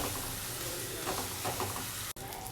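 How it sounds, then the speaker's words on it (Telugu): Ginger garlic paste fries in a pan for a mutton curry, a dense, steady sizzle up close with faint stirring scrapes and a brief cut near the end. "గార్లిక్ పేస్ట్ పచ్చివాసన పోయేంత వరకు ఫ్రై చేసుకోవాలండి"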